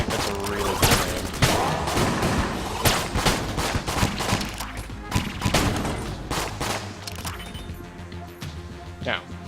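Repeated shots from the Rogue Special starting gun in Enter the Gungeon, sharp cracking pops in rapid bursts among explosions and game effects, under frequent talking.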